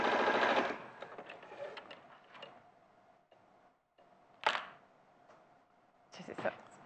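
A sewing machine stitches fabric pieces in a rapid mechanical rattle, loud at first and then tapering off, with a softer whir in the middle and renewed bursts of stitching later on.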